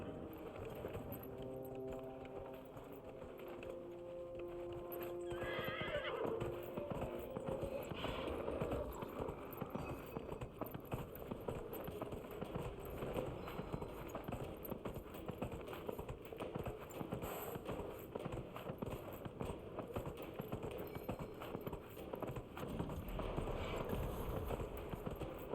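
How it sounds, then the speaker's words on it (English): Horse galloping during a race in Dragon Age: Inquisition, rapid repeated hoofbeats running steadily over a game soundscape, with a tonal musical cue near the start. "I love horse races where I'm the only racer"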